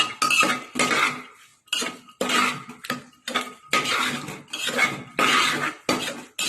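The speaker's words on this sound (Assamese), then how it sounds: "এনেকৈ মিহলাব যাতে গোটেইখিনি ভালদৰে মিহল খাই পৰে।" A utensil scrapes and clanks against a pot while chickpea dal is mixed, in short, close, loud bursts separated by brief pauses, no talking.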